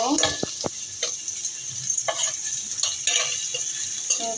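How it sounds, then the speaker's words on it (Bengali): Onions fry in hot oil in a pan for a quick pasta dish, with a steady gentle sizzle and intermittent scraping stirs and clinks of a utensil, all close and fairly quiet. "তো এখন এগুলোকে আমি তেলের ভিতর দিয়ে দিব পেঁয়াজটাকে পেঁয়াজটাকে একটু ভেজে নেব"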